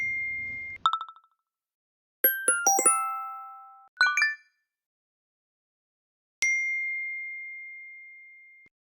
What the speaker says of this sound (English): Click on text tone and select any ringtone from the list.